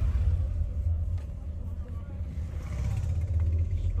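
A Skoda Slavia climbs a hill road near Chopta, its engine a low, steady rumble heard from inside the cabin, with a person talking over it.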